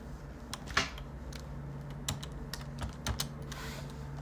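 Computer keyboard typing in a quiet room, a run of soft, irregular key clicks with a few sharper taps, close and steady over a low constant hum.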